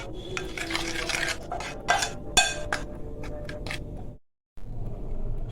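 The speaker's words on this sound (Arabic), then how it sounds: "وهقلب كل ده بقى كده مع بعضه" Raw liver with black pepper and dried coriander is mixed by hand in a bowl, making soft wet squelching and stirring sounds with occasional light clinks against the dish, close and quiet, with a brief pause near the end.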